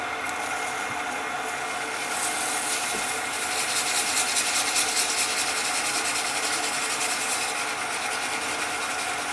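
A reamer handle is worked with sandpaper, from 220 grit up to 12,000 wet sanding, giving a steady, close scratchy rubbing that continues without pause and without any voice.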